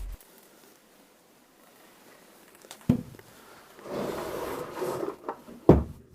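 An old wooden drawer in an abandoned house in Germany is pulled open with a sharp knock, then a scraping slide and rattling contents, ending in another hard thud, in an otherwise quiet room.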